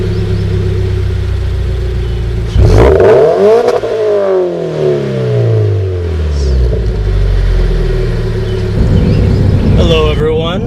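Car engine blipped to 3,000 RPM through a Nameless Performance axle-back exhaust on an FT86-platform coupe, recorded up close: a loud rising rev that falls back to a steady idle rumble, followed by a second shorter rev.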